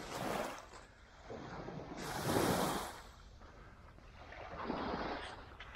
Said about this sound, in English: we're right on the beach now.